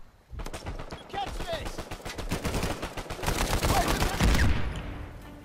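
Rapid automatic gunfire from Uncharted 4 multiplayer rattles continuously in dense bursts, close and loud, mixed with game effects and a player's voice talking over it.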